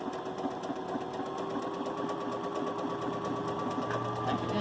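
A Baby Lock Jubilant sewing machine runs a zigzag tack, its needle ticking rapidly and evenly in a continuous close mechanical whir, with no talk over it.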